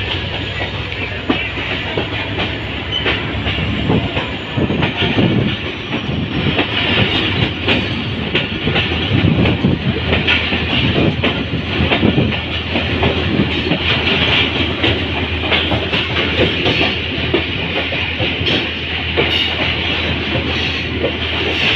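The Shah Latif Express, hauled by an HGMU-30R diesel locomotive near Karachi, runs with a loud, steady rumble and repeated clickety-clack of wheels over rail joints, heard up close throughout.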